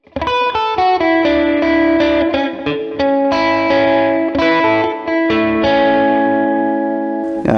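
Distorted electric guitar plays bright two-note double stops with quick hammered-on notes in a blues shuffle, loud and steady, with a touch of chorus and reverb.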